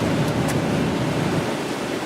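Strong winter blizzard wind in south central Minnesota, a steady, dense roar buffeting the microphone throughout, with no voices.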